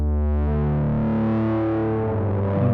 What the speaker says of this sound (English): the first part is obviously the fuzz, and here it's coming from the Fazzy Cream